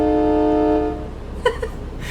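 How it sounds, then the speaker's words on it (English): A Freightliner Cascadia truck horn in American Truck Simulator, a loud, deep, train-like multi-tone blast held for about a second then cut off, followed by quieter engine rumble and a brief faint blip. "I absolutely love the horn on this thing."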